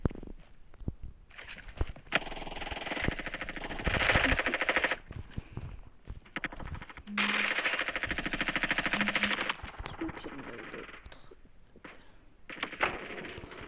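Rapid automatic gunfire in a shooter video game, with sustained bursts of loud rattling fire and scattered shots alternating with brief lulls, with no talking.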